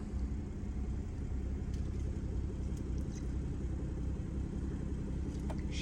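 BMW F30 with a B58 engine on a test drive after a transmission flash tune, giving a steady, even cabin drone of engine and road rumble throughout with no sharp revving and no voices.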